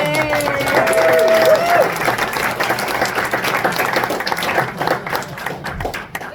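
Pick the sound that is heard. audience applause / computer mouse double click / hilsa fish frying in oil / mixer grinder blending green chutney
audience applause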